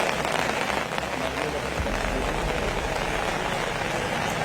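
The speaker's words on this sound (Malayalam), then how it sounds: "കഴിഞ്ഞ ഒരു മണിക്കൂറിലേറെയായി വലിയ മഴയാണ് പ്രദേശത്ത് പെയ്തുകൊണ്ടിരിക്കുന്നത്" Heavy rain pours on the disaster-affected area around Mundakkai and Chooralmala as a dense, loud, unbroken roar of drops striking surfaces, with a low rumble underneath.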